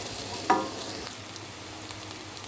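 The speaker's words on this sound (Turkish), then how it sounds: "Şöyle rengi kokusu gidene kadar salçamı tenceremin dibinde çevirtiyorum." Tomato paste sizzles and fries steadily on the bottom of a hot pot, with a brief scrape of a spoon stirring near the start.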